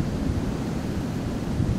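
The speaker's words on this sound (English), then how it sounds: "We have 50 mile per hour gusts today" Strong west-northwest wind gusting around 50 mph outdoors, a steady loud low roar buffeting the microphone with no pauses.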